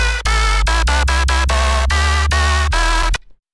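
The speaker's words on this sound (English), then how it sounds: "So we're going to demonstrate this on this bass sound I put together that sounds like this." Synth bass made in FL Studio plays a loud, steady rhythmic line of sustained notes with sharp restarts, then cuts off abruptly into silence near the end.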